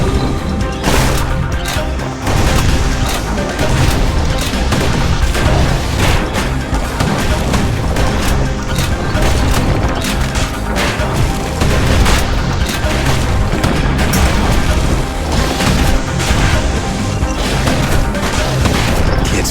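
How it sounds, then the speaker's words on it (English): Musket shots and explosions from the video game Bastion crash and boom densely and loudly throughout, a relentless barrage of blasts with no pause. "Kid's blasting everything in sight with that newfangled musket."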